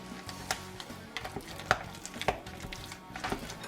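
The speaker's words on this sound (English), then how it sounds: "grab a spoon here. Go ahead and mash them up some more." Cooked potatoes being mashed with a spoon in a pot: soft, irregular taps and clicks of metal on the pot with quiet squishing between them, close and fairly faint.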